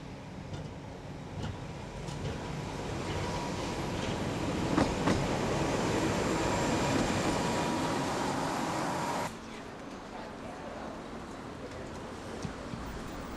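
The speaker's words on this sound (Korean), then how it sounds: "눈보라 몰아칠 만년설을 기대하며 전나무 숲을 가로지르는 협계 열차에 몸을 싣기 위해서다" A narrow-gauge tourist train runs through fir forest, a steady broadband rumble with faint rail clatter and squeals that swell slightly midway, then drops abruptly to a quieter hum for the last few seconds.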